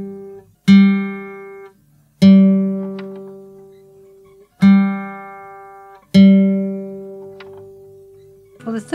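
Guitar being tuned by comparing a fretted note with the open string below: four single plucked notes, each ringing and fading, in slow succession, close and clear with no talking.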